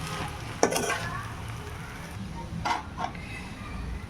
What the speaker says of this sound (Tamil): இந்த மாதிரி நல்லா போட்டு வெஜிடபிள்ஸ் கூட மிக்ஸ் பண்ணுறேங்க.